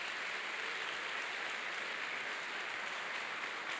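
A Baptist church congregation applauds during the church's anniversary service, a dense, even wash of many hands clapping that holds steady and fairly loud for the whole stretch, with no voices standing out.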